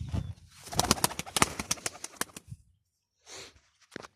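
Pet birds, pigeons or doves, are released and take off with a close burst of rapid wing flapping. The flutter fades into quiet, and then a short second flurry of wingbeats follows.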